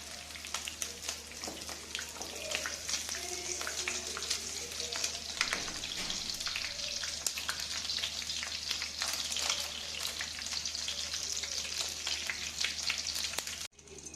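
Fish fries to golden in oil in a pan, with a continuous crackling sizzle at moderate level and occasional pops and utensil taps, ending with a brief clatter.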